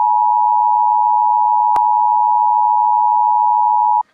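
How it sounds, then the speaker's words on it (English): A single long, steady electronic phone beep holds one pitch for about four seconds, loud and clean, with a brief click partway through before it cuts off abruptly. "I got a phone call in the middle of that"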